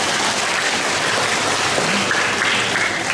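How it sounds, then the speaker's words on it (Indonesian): Applause from a church Christmas congregation, a dense, steady wash of many hands clapping close and loud throughout, with no talk over it. "Maka buat tepuk tangan buat anak-anak yang pakai baju merah ini dan anak-anak kecil di sini."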